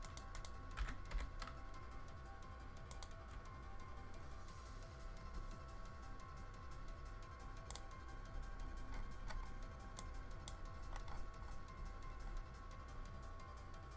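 Faint keystrokes tap on a computer keyboard during Pokémon VGC teambuilding, coming in scattered short bursts and single clicks over a quiet room hum, with no voice present.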